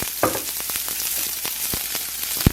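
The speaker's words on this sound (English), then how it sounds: "I'm going to start with 1 tablespoon of canola oil, and I'm going to throw in a half an onion" Half an onion sizzles in a tablespoon of hot canola oil in a pan, a loud, steady frying hiss with crackles and a couple of sharper pops, no voices.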